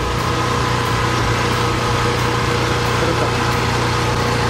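Small engine of a rice planting machine in a paddy field, running steadily at a constant idle-like drone close to the microphone, loud and unbroken with no voices.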